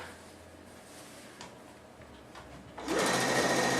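A sewing machine stitches sashing onto a quilt top. After a quiet stretch it starts up close and loud, running as a steady mechanical whir for the last second.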